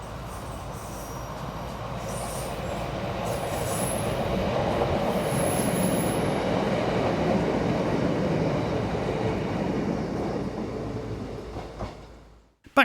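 A Class 153 diesel unit, 153314, rolls past at Reedham heading towards Norwich, a loud broad rumble of wheels and engine that swells, holds, then fades to quiet.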